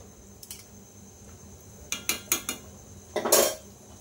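Lid clattering onto a pot of mutton and potato curry: a light metal tap, then a quick run of four sharp clanks and a louder rattling scrape as it settles, close and clear with no voices.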